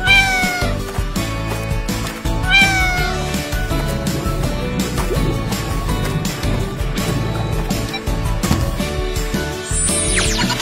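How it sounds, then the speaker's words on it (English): A cat meowing repeatedly in short, rising calls, loud and close, set over steady background music, with a few bright high-pitched cries near the end. "kucing"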